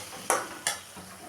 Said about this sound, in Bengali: দিয়ে দিলাম আদা কাঁচা লঙ্কা বেটে রাখা জলটা। আরেকটু কষিয়ে নেব মশলাটা।